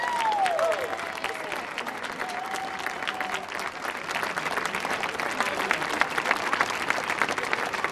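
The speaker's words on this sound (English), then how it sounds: "please stand up and give them a round of applause" An audience applauds performers at a family night stage show, steady dense clapping sustained throughout with a brief voice or whistle-like tone near the start.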